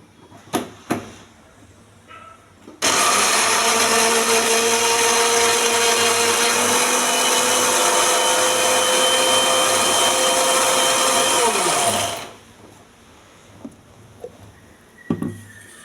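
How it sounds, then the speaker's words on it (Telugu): A kitchen mixer grinder whirs at full power for about nine seconds, blending pomegranate seeds into juice. The loud, steady high whine starts abruptly and cuts off abruptly, with quiet clicks and handling before and after. "మిక్సీ వేస్తున్నాను."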